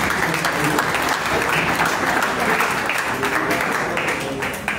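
A church congregation applauds loudly and steadily for Jesus Christ during a prophetic service, a dense wall of clapping sustained throughout with scattered voices mixed in.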